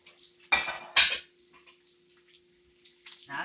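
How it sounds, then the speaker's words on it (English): Two sharp clinks of a plate set down over a pot of grits on a stove, followed by faint scraping and light knocks, close and alone. "I'm gonna go ahead and I'm gonna place this plate over"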